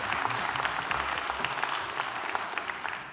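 A live audience at a climate-anxiety talk claps continuously in a dense, steady patter of many hands, moderately loud and without speech.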